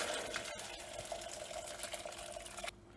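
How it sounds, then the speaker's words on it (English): Rasam juice is poured into a hot tempering pan, giving a short, close, steady rushing pour with a faint sizzle that stops abruptly near the end. "then we'll increase the flame to high, and then we'll be adding our rasam juice to this"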